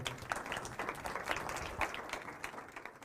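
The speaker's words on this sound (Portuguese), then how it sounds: "Uma salva de palmas para eles, faz favor" Audience applause welcoming guests to a post-film talk session, a steady wash of clapping at moderate distance lasting the full few seconds with no voices over it.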